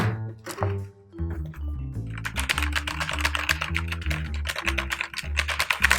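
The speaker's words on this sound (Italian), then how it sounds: "Adesso vi faccio sentire dei veri Cherry MX Red." Rapid typing on a mechanical keyboard with Cherry MX Red switches, a dense run of crisp clacks and key bottom-outs, close and clear with background music underneath.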